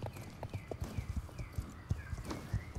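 Rapid hoofbeats clatter at a trotting pace in the video game Star Stable Online, close by, over a soft ambient backdrop with faint high chirps.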